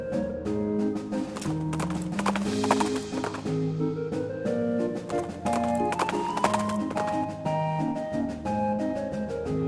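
Steady clip-clopping of horse hooves with a game-style music bed from the video game West of Loathing, continuous and fairly even in rhythm throughout.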